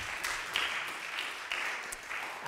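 An audience claps for the performer during a talk on the music of a composer, scattered hand claps from a small group, fairly close and continuous.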